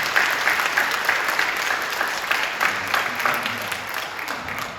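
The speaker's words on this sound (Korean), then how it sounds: "최영호 담임 목사님 힘내시라고 박수 한번 해드리겠습니다" A church congregation claps together to encourage its senior pastor, a dense sustained round of applause that swells early and slowly tapers off.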